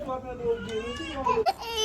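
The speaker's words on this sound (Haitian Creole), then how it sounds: "la bébé a crié" A baby cries in wavering, high-pitched wails while an adult talks nearby.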